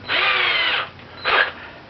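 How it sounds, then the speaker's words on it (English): A power drill boring a 1/16 inch hole in a handmade ornament, heard as two close, loud whirring bursts, a longer one followed by a short one, with no talking. "I'll drill a hole, and there, 1/16 of an inch"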